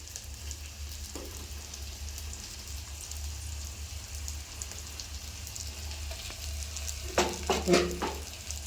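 Okra and onions fry in a pan with a steady, soft sizzle over a low hum, followed by a short burst of clattering stirring toward the end.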